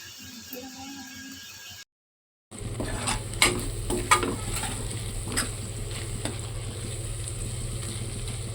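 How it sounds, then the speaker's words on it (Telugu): Spinach and onion masala sizzles softly in a pan on low heat while a spoon stirs it, giving steady frying hiss with scattered scraping taps after a brief silent gap. "బాగా వేగే వరకు సిమ్లోనే ఉంచుకొని కలుపుతూ ఉండాలండి"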